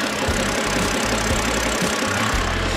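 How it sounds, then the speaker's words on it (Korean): A BMW 5 Series gasoline engine idles with the bonnet open, a steady close mechanical rumble with a low, even pulse running throughout, no voices. "영상으로 엔진 소음 한번 담아보도록 하겠습니다"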